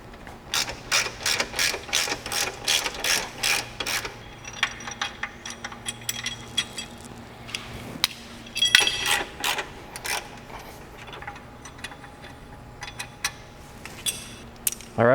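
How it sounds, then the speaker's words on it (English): A 10 mm ratchet removes two brackets from a Polaris RZR XP Pro, giving rapid bursts of ratcheting clicks, close and crisp, separated by short pauses and a few metallic clinks. "next we're going to need our 10 millimeter. And we're going to take off these 2 brackets"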